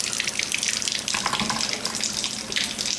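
Tap water runs steadily into a sink while celery stalks are rinsed clean of dirt, a continuous close splashing hiss with no talking.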